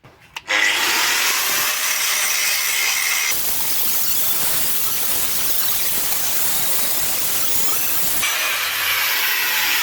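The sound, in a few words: grinding metal welds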